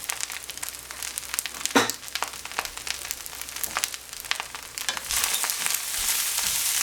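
Mushrooms, Spam and egg fried rice sizzle loudly in a hot pan, a dense frying crackle broken by scrapes and clicks of stirring, then growing into a stronger, steadier hiss.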